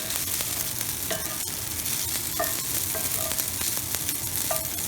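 Pasta browns and sizzles in an electric rice cooker, a steady close frying hiss with occasional stirring scrapes and taps, no talk.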